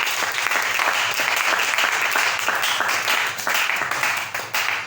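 Sustained applause from a church congregation acclaiming the Lord, a thick, even roar of many clapping hands that holds steady and starts to thin near the end.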